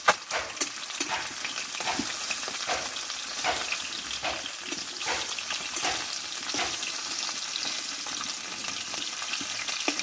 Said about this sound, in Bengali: দেখো মাছগুলো কিন্তু এক পিস ভাজা হয়ে গেছে আমি উল্টিয়ে দেবো